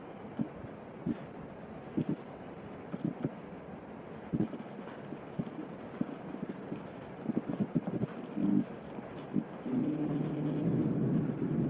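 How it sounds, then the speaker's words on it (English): Steady wind buffets the microphone outdoors with a low, rushing noise and occasional gusty thumps, growing stronger near the end. "It's quite windy outside right now"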